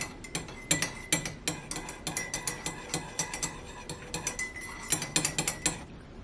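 A spoon stirs cherry honey fruit spread into hot chocolate in a cup, giving a steady run of close, rhythmic clinks and scrapes against the cup walls, alone without talk.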